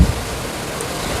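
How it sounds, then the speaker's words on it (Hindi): Heavy rain with hail pours at Tashi Lhunpo Monastery as a dense, steady roaring hiss, loud and constant through the brief stretch. "बाहर तो जा नहीं सकता हूँ क्योंकि बहुत ज़्यादा तेज़ बारिश आ रही है।"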